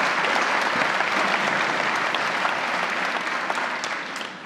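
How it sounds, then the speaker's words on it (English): A book festival audience in Edinburgh claps in a dense, even burst of applause that holds steady, then begins to fade at the end. "Let's get a round of applause for that, Scott."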